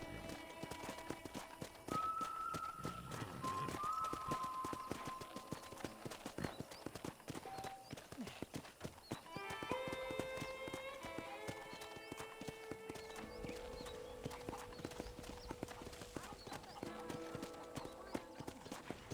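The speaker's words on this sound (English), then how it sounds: "I picked out a fine horse for you." Horse hooves clip-clop steadily in the western video game Red Dead Redemption, a continuous rhythmic trot heard close under game music and ambience, with brief bird calls and a voice speaking partway through.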